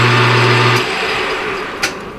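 A lathe turns a small Delrin plug. Its loud motor drone carries a low steady tone that drops away after under a second, leaving a softer mechanical whir with one brief sharp click near the end.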